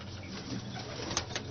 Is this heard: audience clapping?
no